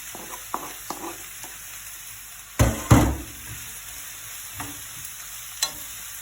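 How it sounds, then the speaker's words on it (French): Carrots dropped into a hot pan for a stuffed courgette tart with rice, vegetables and minced meat, two loud clattering thumps followed by a soft steady sizzle and light stirring knocks. "Donc maintenant, je vais y ajouter les carottes."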